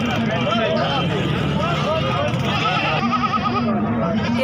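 Beetal goats bleat repeatedly at a busy Karachi livestock market, their wavering cries rising over a steady babble of crowd noise and nearby traffic.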